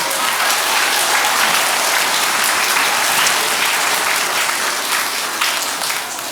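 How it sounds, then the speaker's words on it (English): A school assembly audience of young students applauds at a Student of the Month event, a loud, sustained wash of clapping from a crowd that holds steady for several seconds before easing slightly near the end. "Give yourselves a round of applause."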